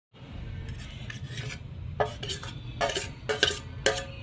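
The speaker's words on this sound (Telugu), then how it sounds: "ఇప్పుడు చింతిగురు వేసుకొని దంచుకోవాలి" Tamarind leaves and peanuts being pounded by hand for chutney, a gritty grinding rub that turns into a series of sharp, uneven pestle strikes, close and moderately loud, without speech.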